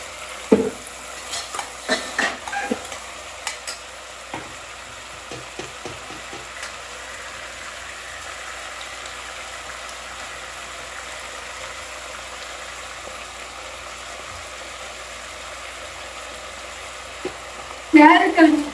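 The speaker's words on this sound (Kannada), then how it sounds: "ಈಗ ತರಕಾರಿ ಎಲ್ಲ ಫ್ರೈ ಆಗ್ತಿದೆ" Vegetables frying in a pan give a faint steady sizzle, broken by scattered scraping knocks of stirring early on, then a louder burst of pan clatter at the very end.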